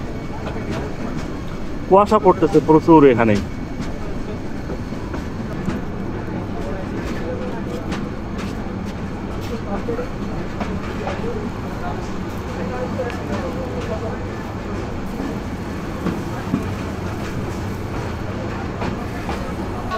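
A cargo train at Comilla railway station gives a steady, distant rumble, with a brief horn-like tonal burst near the start while someone talks over it throughout.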